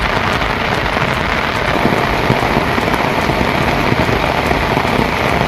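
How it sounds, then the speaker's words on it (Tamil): Heavy rain pours down in a dense, steady hiss of drops striking surfaces, loud and unbroken from start to end with no voices. "30 நிமிடங்களுக்கு மேலாக கனமழை கொட்டி தீர்த்தது"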